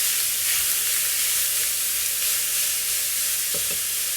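80-20 ground beef hamburger frying in a skillet, a steady, close sizzle and crackle that holds evenly throughout, with a brief scrape or stir near the end.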